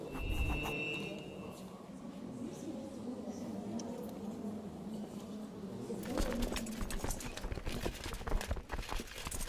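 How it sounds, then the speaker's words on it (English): Horse hooves clip-clop in a video game, a soft and steady clatter over a continuous ambient background, with faint bird-like cooing mixed in. "I'm gonna demonically possess this horse."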